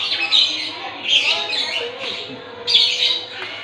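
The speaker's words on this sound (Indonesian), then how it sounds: "Berisik banget ini burung." Loud, harsh squawking from a bird nearby, in repeated bursts across the clip over faint background noise.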